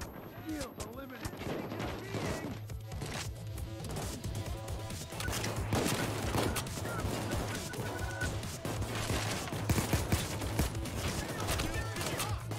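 Rapid, dense gunfire in PayDay 2, near and loud, firing in short bursts amid clattering action noise with talk mixed in, though reload sounds are not clearly picked out.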